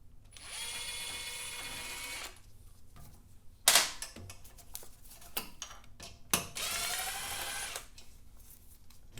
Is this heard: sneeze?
no